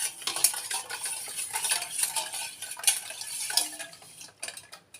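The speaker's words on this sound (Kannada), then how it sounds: "ಇನ್ನು ಹುಣಸೆ ಹುಳಿಯ ರಸ ಅದಕ್ಕೆ ಸೇರಿಸಬೇಕು" A spoon stirs tamarind juice into a homemade tamarind drink, swirling liquid with bright metallic clinks against the vessel repeating irregularly, close and clear, fading slightly toward the end.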